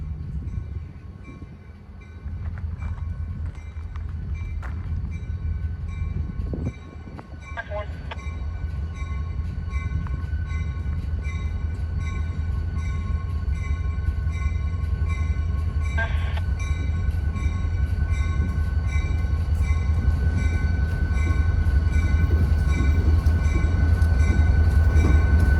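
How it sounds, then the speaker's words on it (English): Two locomotives running light past Haley Tower in Terre Haute, Indiana, rumble steadily nearer, the low engine drone and wheel noise building loud over the whole span, with a faint squeal or two partway through. "Oh, he's running light. It's just two locomotives."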